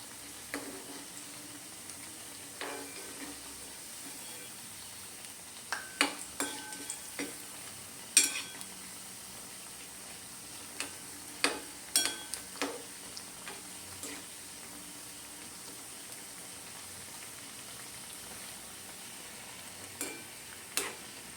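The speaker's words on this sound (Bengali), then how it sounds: "উল্টে পাল্টে এগুলো আমি ভেজে নিচ্ছি।" Onion pakoras fry in hot oil in a home kitchen, a steady soft sizzle with intermittent clicks and taps of a utensil turning them, quiet and close, with no talking.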